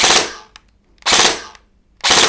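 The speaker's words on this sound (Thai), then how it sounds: "จะยิงแค่ 3 นัดเท่านั้นต่อให้เรากดค้างนานแค่ไหน" An electric AR16/MK8 gel blaster in burst mode fires three loud, sharp volleys, each a short rattling cluster of shots, separated by roughly half-second pauses of near silence.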